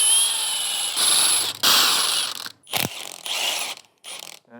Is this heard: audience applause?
no